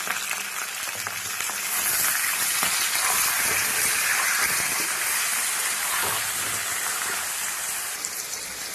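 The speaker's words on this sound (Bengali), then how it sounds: "আলুগুলো আমার ভাজা হয়ে গেছে, তুলে নেব।" Potatoes fry in oil with a dense, steady sizzle and crackle, close and continuous, swelling slightly in the middle.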